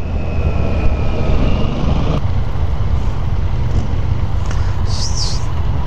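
A 2015 Yamaha FZ-09 (MT-09) motorcycle engine drones steadily and loud throughout the ride, a dense low rumble mixed with wind buffeting, with a slight shift in tone partway through as gears change.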